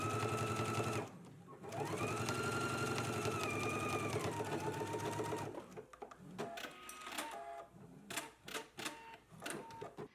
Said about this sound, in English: Let's go ahead and stitch it in place now.